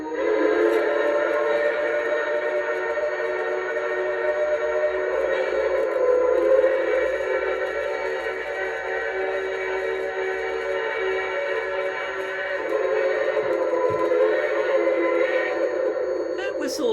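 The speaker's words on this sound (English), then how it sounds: "And then F5 is your crossing whistle." A Bachmann two-truck Shay model locomotive fitted with a Zimo sound decoder sounds its crossing whistle, a sustained tonal blast that runs steadily for the whole stretch, with a voice briefly talking over it.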